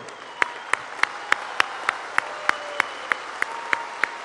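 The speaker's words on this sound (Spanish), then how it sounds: "sí, un aplauso." A crowd at a political rally in Escárcega, Campeche claps in unison, sharp claps landing at an even beat about three per second over a low, steady crowd murmur.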